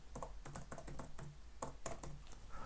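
Rapid, uneven clatter of keys on a computer keyboard as a file name is typed, close and continuous with no talk.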